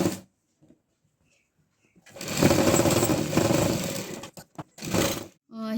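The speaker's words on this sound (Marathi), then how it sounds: "डबल टिप मारून घेते मी ह्या साईडला आणि त्या साईडला।" A sewing machine double-stitches the sides of a cloth box bag. After near silence, a steady loud whirring run lasts about two seconds, followed by several short stop-start bursts of stitching.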